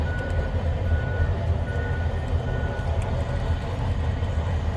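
A freight train carrying potash rolls along a railway line, a steady low rumble with rhythmic wheel clatter that holds at an even level throughout.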